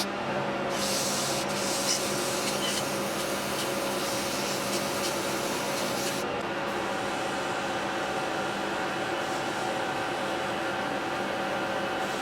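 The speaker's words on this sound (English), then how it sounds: "so I'm ready to start sanding." Continuous abrasive rubbing of sandpaper against a spinning polymer clay pen blank on a lathe, steady and fairly loud over a constant machine hum.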